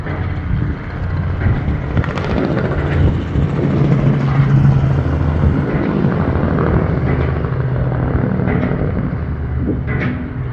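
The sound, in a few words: helicopter flying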